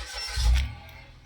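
A Mitsubishi Mirage G4 engine cranks and catches in one quick low surge, then drops back to a quieter hum within about a second.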